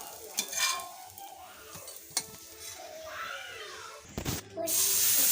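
Pumpkin dosa batter sizzles and crisps on a hot pan, with a steady hiss broken by a few sharp scraping and clinking knocks of a utensil against the pan.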